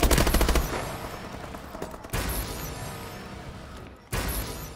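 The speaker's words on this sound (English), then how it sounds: "Is my sentry gun killing them?" An automated sentry gun firing in Call of Duty: Advanced Warfare multiplayer, a rapid loud burst at the start, then stretches of steady dense gunfire broken by short pauses, with other battle noise underneath.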